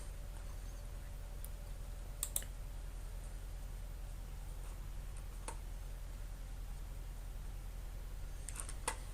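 A computer mouse clicking while navigating the Azure portal in a web browser: a handful of sharp, isolated clicks, including a quick pair, spaced seconds apart, close but faint, over a steady low electrical hum with no talking.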